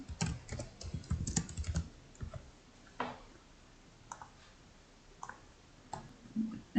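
Someone types on a computer keyboard: quiet, close keystrokes come in quick bursts at first, then thin out to scattered single taps and short runs.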